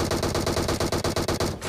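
Rapid automatic gunfire in the PUBG Mobile battle royale on the Livik map, a loud, steady burst of evenly spaced shots lasting well over a second before cutting off abruptly.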